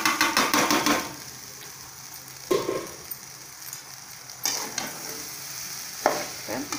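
Cooked rice is stirred into grated coconut in a hot pan, with scraping spoon strokes in uneven bursts over a soft steady sizzle, close by.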